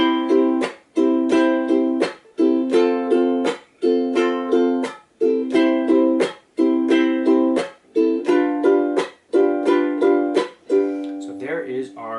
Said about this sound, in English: this strumming pattern, which is a pretty simple one as far as chucking goes